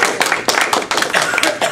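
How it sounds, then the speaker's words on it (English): An audience at a chamber of commerce talk gives a short round of applause, with dense close clapping that is loud and steady for under two seconds. "Well, let's have a round of applause for Paul."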